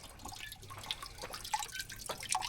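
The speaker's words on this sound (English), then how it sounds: "A swing that's set up to pump water." Water drips and trickles from a pump worked by a swing, a faint irregular patter of small splashes outdoors with light background noise and no talking.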